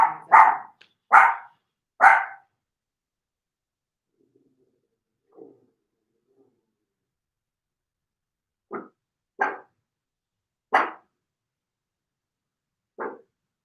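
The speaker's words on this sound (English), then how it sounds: "Sorry about my doggy." A pet dog barks indoors in two bursts: three loud, close barks at the start, a faint sound, then four sharper separate barks spaced a second or so apart near the end, with no talking.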